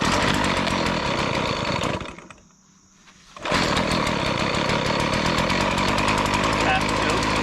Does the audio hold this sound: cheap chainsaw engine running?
yes